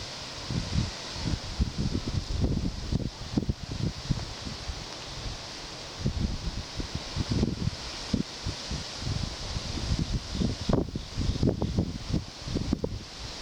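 Gusty wind outdoors at Messick Point in Poquoson, Virginia, buffeting the recorder in uneven low rumbling bursts with a steady hiss behind, like rustling, with no one speaking.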